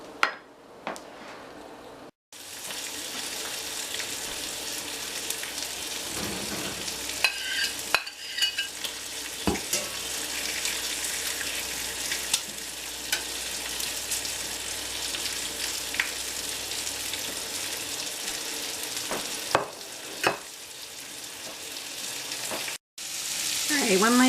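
Bacon keeps sizzling in a hot cast iron pan after the burner is turned off, a steady crackling hiss that lasts throughout, broken by a few brief clinks and knocks.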